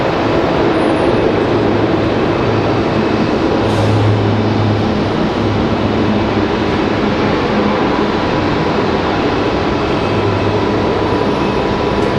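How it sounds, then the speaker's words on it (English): A C-130 aircraft touches down on a far runway at Raleigh Durham airport, heard as a loud, continuous broadband roar with faint low rumbles surging at intervals, no voices. "Sounds like our C-130 touched down over on the other side, back there behind us."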